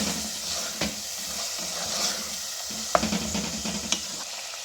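Minced meat keema fries in a pan for aloo qeema matar, a continuous sizzling hiss with soft stirring scrapes and a couple of sharp utensil clicks against the pot.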